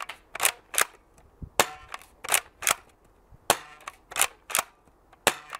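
A Nerf GelFire Ghost gel blaster fires a rapid series of about ten sharp, loud snapping shots in uneven bursts, each crack standing alone with short pauses between.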